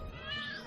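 A cat gives a single soft meow, fairly quiet and close, with no other sound around it.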